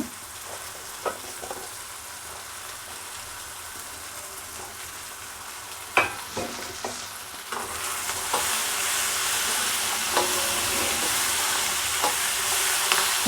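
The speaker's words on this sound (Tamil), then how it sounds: "போட்டு கொஞ்சம் நல்லா வதக்கிட்டு நல்லா வதக்கிக்கோங்க." Drumstick pieces sautéing in a pan, a soft hiss broken by occasional clinks of stirring, the sizzle swelling louder in the second half, with no speech.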